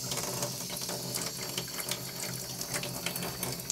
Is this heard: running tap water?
yes